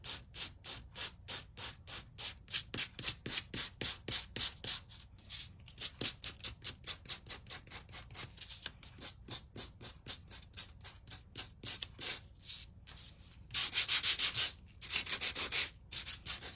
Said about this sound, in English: Sorry for that noise, that sanding noise.